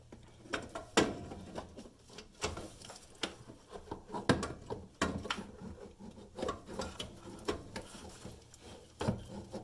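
A new starter slides into place on a Kawasaki Mule 610, with soft scraping, rubbing and light metallic taps in an irregular stream, close and fairly quiet.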